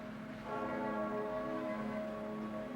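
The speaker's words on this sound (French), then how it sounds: "toutes les cloches sonnent en Alsace" Church bells toll across Alsace in November 1970, marking the death of General de Gaulle: a sustained, ringing peal hangs in the air with a bright hit near the end, and no one speaks.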